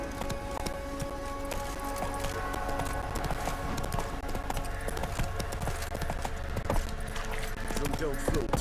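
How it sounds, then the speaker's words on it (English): Horse hooves clip-clop at a steady gallop in The Witcher 3, a continuous rhythmic drumming with a voice speaking over it. "Whoa there, Roach"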